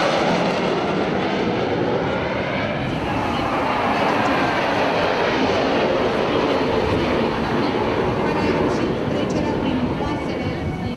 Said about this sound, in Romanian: Interceptoarele de mare viteză decolate de la baza aeriană de la Petești au trecut pe deasupra flotei militare